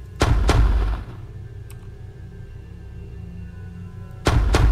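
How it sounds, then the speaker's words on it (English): Two sharp, loud gunshots crack near the start of a video game match, a faint hum lingers, then another heavy blast closes the sequence with no talk. "I shot twice."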